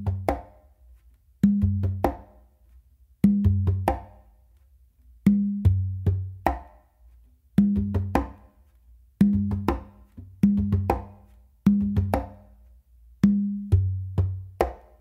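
Bingba groove on a conga, a steady repeating pattern of open tones, soft bass-finger touches and sharp close slaps, played alone and close with clear gaps between phrases.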